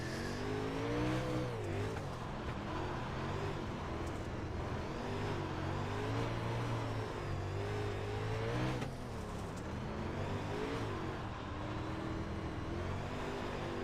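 A dirt car in the iRacing video game spins its wheels on a slick dirt track at Fairbury, its engine holding a continuous droning whine that rises and falls in pitch as the throttle changes, loud and steady throughout with no voices.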